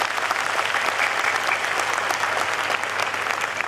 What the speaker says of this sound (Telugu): ఒక్కసారి మీరు గట్టిగా చప్పట్లు కొట్టి అవునని చెప్పండి నాకు